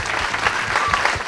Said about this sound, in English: Everyone, give these guys a round of applause.